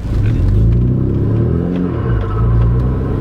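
Renault Megane RS engine revving hard with a deep rumbling growl, a jerky clutch engagement making the pitch dip briefly midway before climbing again, loud and close from inside the car.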